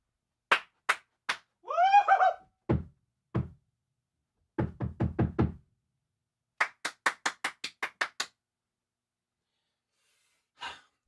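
Scattered bursts of hand clapping during a live football game, Chiefs versus Bills: short claps in uneven clusters with pauses, a quick run of four claps, then a steadier series of crisp claps, ending with one faint clap.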